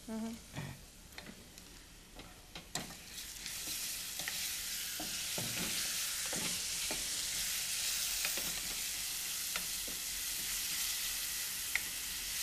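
Onions frying in a pan with a constant bright sizzle, punctuated by repeated scraping and tapping of a utensil as they are stirred, close and fairly even over a dozen seconds.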